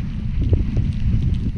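Strong wind buffets the microphone outdoors on an exposed edge, a dense low roar with gusts rising and falling throughout, no voices.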